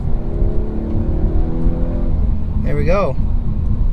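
A 2019 Audi A5 accelerates with its engine revving loudly from inside the car, the note climbing in pitch, while a voice speaks briefly over it near the end.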